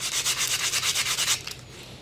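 A wooden wand is sanded by hand with rapid, steady back-and-forth rasping strokes, close and loud, running about a dozen times before trailing off into quiet.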